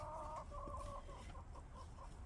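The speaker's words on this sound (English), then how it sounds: "Chickens are waiting to come out." Several backyard chickens cluck softly as they wait to be let out, giving a few short, repeated clucks and murmurs close by but at low volume, with no talking.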